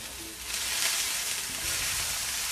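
Cod fillet sizzling in a very hot pan, a steady broadband frying hiss that stays loud and close throughout, with occasional soft scrapes as the fish is nudged.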